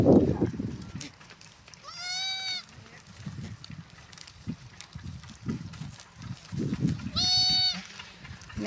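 Two loud, wavering goat bleats separated by a few seconds, with people talking and rustling movement in between.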